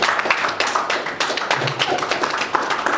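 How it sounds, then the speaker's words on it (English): An audience applauds an introduced guest at a tuberculosis response meeting, a dense clatter of many hands clapping steadily for a few seconds in a room, fairly loud and without speech over it. "Let's give him an applause."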